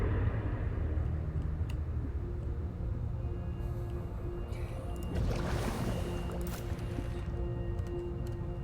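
A low, steady mechanical hum fills the engine room in the Subnautica video game, droning without pause, with a brief swell of brighter whooshing noise midway.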